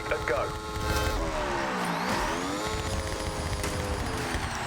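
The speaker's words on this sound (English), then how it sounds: "Get your revs up, and on green, release the handbrake and go" In Forza Horizon, a car's engine revs up loudly with rising pitch, dips briefly, then climbs again as it launches and accelerates, with a voice talking over the engine throughout.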